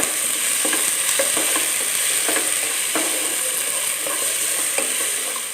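Onions sautéing in a pan for Kerala-style chicken ularthiyathu, a continuous loud sizzle broken by light, irregular knocks and scrapes of a stirring spoon, with no one talking.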